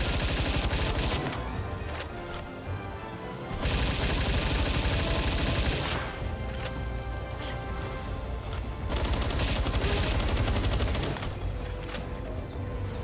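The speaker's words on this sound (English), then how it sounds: "It's bad to use this assault rifle just because you use so much freaking ammo." Loud, sustained assault rifle fire in the Palworld video game: long rapid-fire bursts rattle almost nonstop, with only brief pauses between volleys and no talking.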